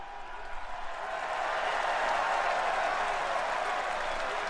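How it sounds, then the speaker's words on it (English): A wrestling arena crowd at a live Raw broadcast applauds in a dense, continuous roar of clapping and cheering that swells and holds, loud and distant-sounding. "Don't applaud that"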